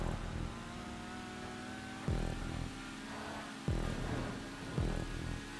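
Motorcycle engine in GTA V revving in a street race, with three sharp throttle blips and gear shifts cutting through a steady mid-pitched engine drone, loud and close with no talking.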